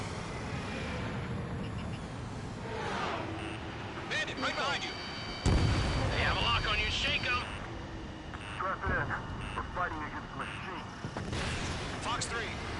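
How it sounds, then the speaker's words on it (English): Missile launches and a blast in the Ace Combat 7 jet combat game, a roaring engine bed with a sudden heavy boom midway and further whooshing launches, while a radio voice talks over it. "Missile away."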